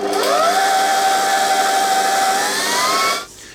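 An electric hand mixer whirs steadily as it beats red velvet cookie dough, its motor pitch rising at the start and shifting later before cutting off near the end, loud and close with no talking.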